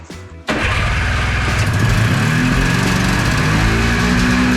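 A small two-stroke Yamaha Phazer snowmobile engine, left sitting outside for ten years, catches after a brief start attempt, then runs loud and steady at a fast idle, close up.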